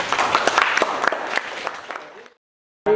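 Dense crowd applause with many overlapping claps, steady and fairly loud, cutting off abruptly into silence before a voice begins.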